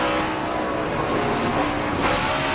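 Elliott Sadler's NASCAR race car, the 38, roars with a steady, loud engine drone that dips as he lifts off the throttle, with a brief shift in tone near the end.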